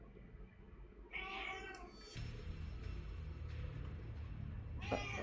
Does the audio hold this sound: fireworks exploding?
no